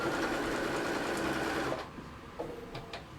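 A sewing machine stitching book weights, running steadily and close for under two seconds, then stopping, followed by quieter clicks and mechanical handling sounds.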